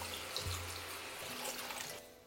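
Water pours steadily into a pan of simmering katla fish curry masala with spring onion, a close, continuous splashing gush lasting a couple of seconds with no talk.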